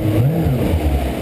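Jet ski engine revving at about 5,000 RPM, a loud close buzzing roar with a slightly wavering pitch, heard alone over a brief moment.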